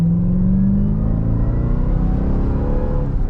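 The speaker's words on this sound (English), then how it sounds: "And the supercharger whine is a lot louder too." A Dodge Durango Hellcat accelerates, its loud, close engine rumble rising alongside a steadily climbing supercharger whine, with no one speaking.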